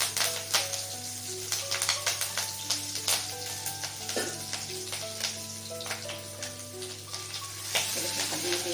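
Curry leaves, ten to twelve of them, crackle and sizzle in hot oil over a low gas flame for a Maharashtrian whole moong kadhi, a dense frying hiss with scattered sharp pops, steady and close.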